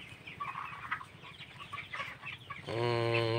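On a poultry farm, 22-day-old broiler chickens murmur and peep quietly in the background before one bird gives a sudden loud, sustained call up close at the end.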